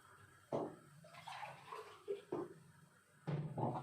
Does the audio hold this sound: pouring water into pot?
yes